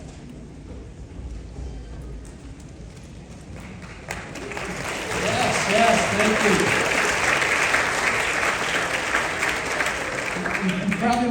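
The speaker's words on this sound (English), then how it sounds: "You probably wouldn't be clapping if you heard me sing, but thank you anyways." An audience at a school spring concert breaks into applause, the clapping swelling from scattered claps into a full, dense wash that continues steadily, with a speaker's voice heard briefly near the start.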